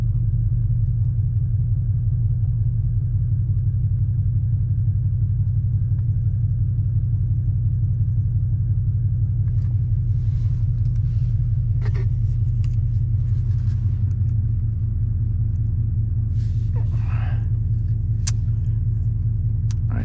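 Deep, steady exhaust rumble from a vehicle cruising on Wildlife Loop Road in Custer State Park, South Dakota, loud and close and continuous for twenty seconds, with a few faint clicks and rattles on top.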